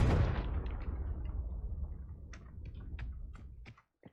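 A Confringo fire spell from Hogwarts Legacy bursts with a loud, booming blast that rumbles and fades over a few seconds, followed by scattered small crackles and pops.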